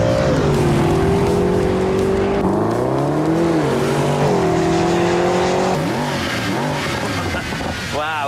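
A 2012 Mercedes-Benz SLS AMG Roadster's engine revs loud and close, its pitch climbing and falling through repeated surges over a steady powerful drone.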